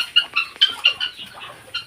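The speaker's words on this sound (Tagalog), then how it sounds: "dito naman si Joey ngayon sa ating manok" Chickens clucking on a small farm, a close, loud series of about seven short clucks in a quick uneven rhythm, with no talk.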